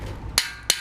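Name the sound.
smacking gear puller onto motorized bicycle axle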